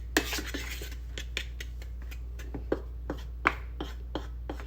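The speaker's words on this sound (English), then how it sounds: "we're going to just whisk that together, fork it together, just as long as you get it blended" Fork whisking flour and shredded coconut together in a bowl for Vietnamese pandan waffles: a run of light, irregular metallic clinks and scrapes against the bowl, close and fairly quiet, over a low steady hum.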